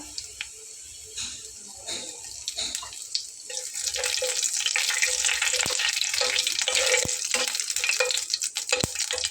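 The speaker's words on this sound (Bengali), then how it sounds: "প্রথমে দিয়ে নেব হাফ চা চামচ পরিমাণ গোটা জিরা এবং দিয়ে নেব একটা তেজপাতা" Whole cumin seeds and a bay leaf drop into hot oil in a heated kadai, starting as a light crackle, then swelling into a steady, close, loud sizzle that lasts to the end.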